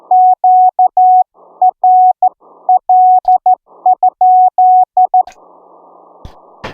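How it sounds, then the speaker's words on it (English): Morse code keyed as a steady mid-pitched CW tone from an Elecraft K3s transceiver, sending a rapid run of dots and dashes, followed by a brief burst of receiver hiss and a click at the end. "So I'll throw out a CW, see if the frequency is in use."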